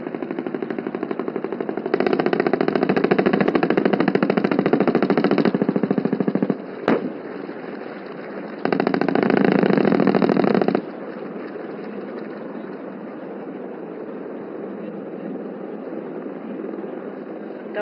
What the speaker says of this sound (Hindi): ये आर्म्ड हेलीकॉप्टर हमारे मैकेनाइज्ड दस्तों के साथ एयर कैवलरी की तरह फायर सपोर्ट देता है